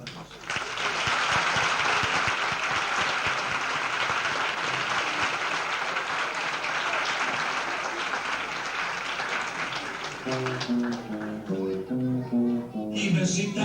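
An audience gives a long, full round of applause for the founding members of a group, steady clapping that carries on for about ten seconds before voices and music take over.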